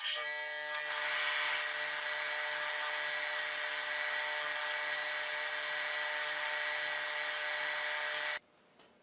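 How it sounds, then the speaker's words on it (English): Wood block facets being sanded on a power sander, a steady high-pitched whirring grind held close and loud for about eight seconds before stopping abruptly. "So let me do those 6 sides now on the sanding."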